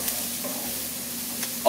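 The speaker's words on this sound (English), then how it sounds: "it's good to have a spoon to mix everything around to really get the burnt bits removed" A spoon stirs a crispy Asian duck omelette in a frying pan, with a low continuous sizzle and a couple of faint scraping taps, nearby and without talking.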